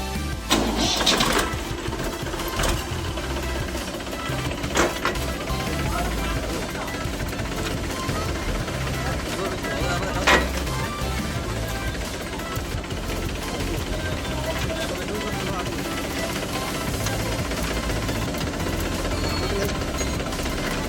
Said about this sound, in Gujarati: તો હવે ટ્રેક્ટર આપણે ચાલુ કરીને જોઈશું કે અવાજ આવે છે કે નથી આવતો.